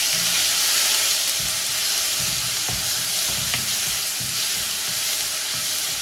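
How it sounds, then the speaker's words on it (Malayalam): Chopped tomato is sautéed in oil in a pan while a rasam is being made. A continuous close sizzle carries soft, irregular stirring and scraping knocks, with no voices. "ഇതൊന്ന് നന്നായിട്ട് ഉടയണം തക്കാളി. അതുവരയ്ക്ക് എണ്ണയിൽ വഴറ്റിയെടുക്കാം."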